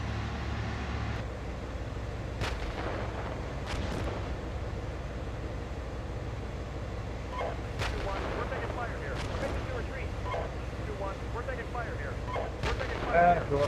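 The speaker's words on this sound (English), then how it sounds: "2-1, we're taking fire here." Battlefield combat in a tank video game: a constant rumbling bed of gunfire and distant artillery with several sharp loud shots and booms standing out, dense and continuous throughout.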